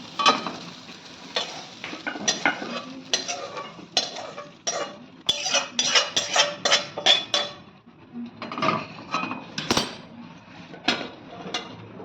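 Fried okra is scooped out of a kadai, with repeated scraping and clinking of a metal spatula against the pan under a faint sizzle, in irregular bursts and pauses.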